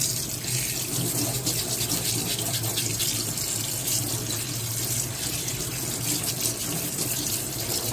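Tap water runs steadily into a kitchen sink while a crab is being washed, a continuous close hiss and splash with no pauses and no talking.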